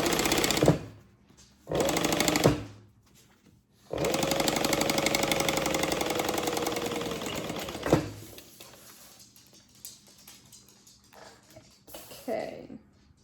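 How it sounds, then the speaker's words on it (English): Sewing machine top stitching backpack fabric, running in a short burst, then a brief pause, then a longer sustained run of several seconds at close range, with quieter handling sounds and light noise afterward. "flip this up, and top stitch on this fabric"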